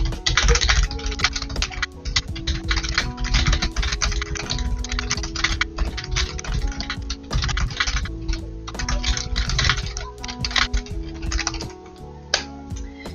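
Rapid, continuous typing on a computer keyboard during a Nitro Type online typing race, dense clicky keystrokes close up with steady rhythm and frequent sharper key hits, underlying music with tonal notes running throughout.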